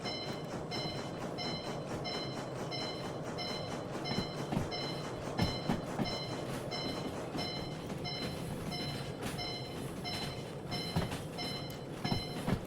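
A freight train in a railway simulation game pulls a string of hazmat rail cars back out along the track, with a steady rolling rumble, repeating high clicks and occasional clanks running throughout at moderate level.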